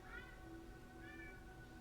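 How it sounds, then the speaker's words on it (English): A cat meows twice softly in the background, two drawn-out mews about a second apart over a quiet room hum. "My cat agrees. I don't know if you can hear him meowing in the background."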